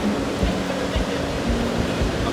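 Sea waves break on the beach at Teluk Sari, a constant loud wash of surf with soft rhythmic surges, heard without talk.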